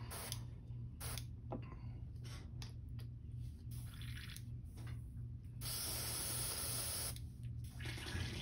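An airbrush sprays in short bursts and then a longer hiss while paint is cleaned out of it, near and fairly quiet over a low steady hum.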